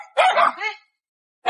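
A dog barks a couple of times, close and fairly loud, with a short gap before another bark starts at the end; no talk over it.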